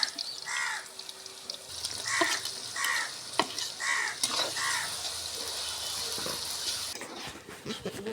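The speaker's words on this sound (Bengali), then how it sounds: "পেঁয়াজটা ভাজা হতে গেছে" Onions frying in a pan of hot oil with bay leaf, cardamom and cinnamon for white pulao, a steady broadband sizzle running throughout with faint scraping clicks, ending in a brief louder rustle.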